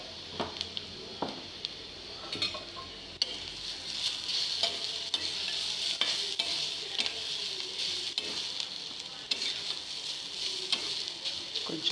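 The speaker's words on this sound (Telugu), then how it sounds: "సో అటు ఇటు లైట్గా కలుపుతూ 2 minutes అలా కలుపుతూ ఉంచాలి" Spices sizzling in a pan for carrot curry while being stirred, a steady hiss of frying with occasional scrapes and clinks of the spoon against the pan, close and continuous.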